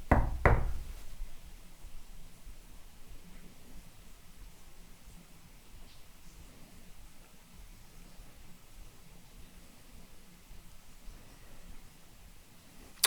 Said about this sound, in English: Could you perhaps knock for us like this?